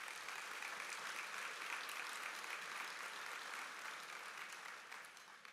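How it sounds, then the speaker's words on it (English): A crowd applauds at a State of the City event, a continuous wash of many hands clapping, fairly distant and soft, holding steady before tapering slightly at the end. "Give yourselves an applause."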